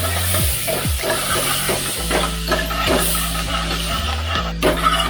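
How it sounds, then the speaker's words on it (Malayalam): Onions fry with salt in a pan while being stirred for Kerala parippu curry, a steady close sizzle with scraping stir strokes and a low hum underneath. "ഈ ഉപ്പ് പിടിക്കാൻ വേണ്ടിയിട്ട്, എല്ലാവർക്കും പിടിക്കാൻ വേണ്ടി ജസ്റ്റ് ഒന്ന് ഇളക്കി കൊടുക്കാം"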